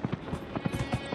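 Horse hooves clip-clop at a steady trot while riding in Dragon Age Inquisition, a quick, even rhythm of close, moderately loud hoofbeats with no talking.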